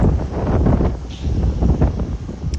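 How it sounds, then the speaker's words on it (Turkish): Gusty wind buffets the microphone in low, rumbling bursts that rise and fall throughout. "nasıl rüzgar var bu?"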